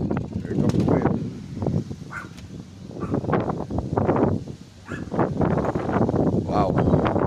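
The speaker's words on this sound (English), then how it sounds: "Oh, that wind's strong. That's moving at a fast pace." Strong, gusting wind sweeping past ahead of an approaching thunderstorm, buffeting the microphone steadily while a person talks excitedly over it.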